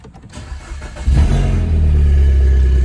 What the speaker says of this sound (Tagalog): So paandarin na natin yung kotse.